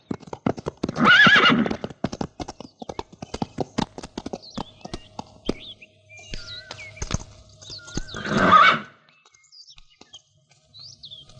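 A horse on a film set, with bursts of hoof clip-clop and two loud, close whinnies near the start and the end. There is no talking.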